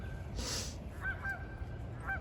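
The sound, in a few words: geese honking on a pond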